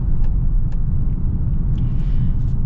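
Deep, steady engine rumble from a 2024 Hyundai Santa Fe Calligraphy with its 2.5 engine under hard acceleration, heard from inside the cabin, loud and continuous without talk.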